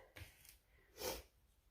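A few short, breathy allergy sniffs close to the microphone, one stronger sniffle near the end, with quiet background otherwise.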